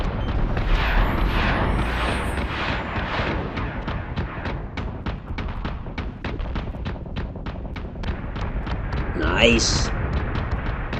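Missile and weapon fire in the space strategy game Battlestar Galactica Deadlock, a rapid string of sharp booming launches and impacts running steadily throughout, with someone speaking briefly over the barrage.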